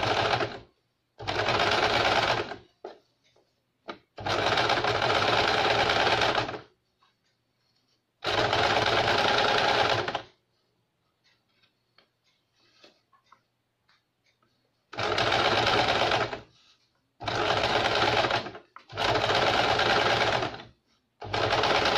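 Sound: sewing machine stitching a blouse back neck edge

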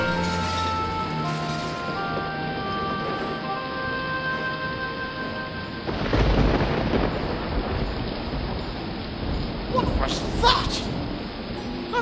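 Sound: thunderstorm with thunder and rain

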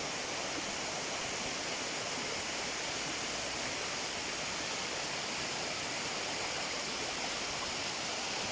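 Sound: waterfall

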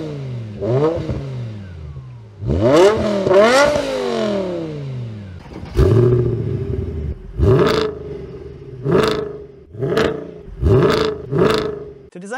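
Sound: BMW E60 M5 or Mercedes W211 AMG exhaust revving

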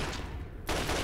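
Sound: gunfire in the video game Fallout 3

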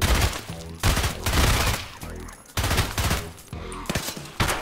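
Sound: gunfire in video game Escape from Tarkov

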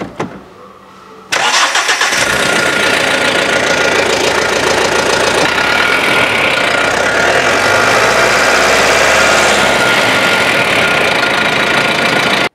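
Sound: Mahindra Optimo Load King BS6 tipper 2.6 litre CRDE diesel engine starting and idling

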